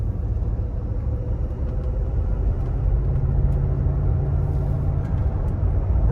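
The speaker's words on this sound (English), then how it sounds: "Rumbling V8." A 1993 Mercedes-Benz 500E with a V8 engine drives along, giving a steady, close low rumble of engine and road noise, with no voices.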